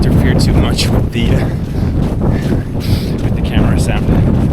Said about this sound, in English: It's a little bit windy and rainy today